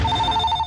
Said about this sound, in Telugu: అయ్యో, ఫోన్ మోగేసింది